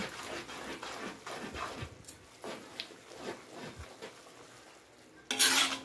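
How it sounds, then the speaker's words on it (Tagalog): Chicken liver and chicken breast are stirred in a pan for pansit bihon: soft scraping strokes over a light sizzle, ending in a loud burst of hiss. "Halo-haloin lang para matuyo siya"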